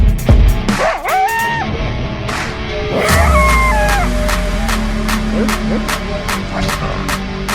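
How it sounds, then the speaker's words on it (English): A dog barks outdoors in a garden setting, two or three loud, sharp barks standing out near the start, followed by lower growly noises over a constant electrical hum and scattered clicks. "Mean dog."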